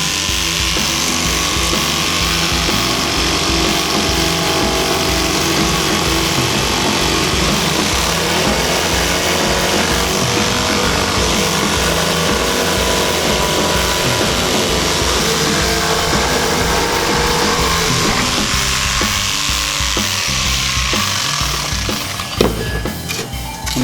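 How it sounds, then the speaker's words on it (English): A jigsaw cuts a rounded corner into a wooden benchwork top for a model railroad layout, a loud, continuous buzzing rasp that runs steadily for over twenty seconds before tapering off. "So let me get my jigsaw here. We'll just cut that out."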